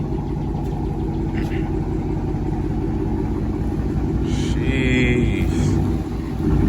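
Dodge Charger R/T with a mid muffler delete and 5-inch exhaust tips idles with a loud, choppy, loping rumble that runs continuously and close, while someone briefly speaks over it.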